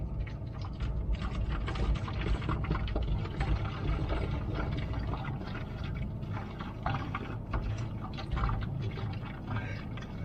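Coolant pours steadily from a Freightliner Cascadia truck's coolant reservoir into a bottle, a continuous close splashing trickle lasting throughout.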